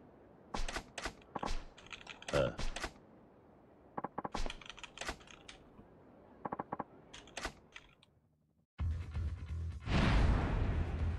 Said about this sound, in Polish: Ale także ja muszę cały czas tu klikać.